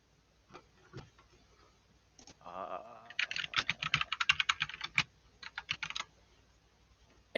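Rapid typing on a computer keyboard during a tabletop role-playing game stream, a close, loud burst of quick clicking keystrokes in dense runs, with a brief pause between flurries.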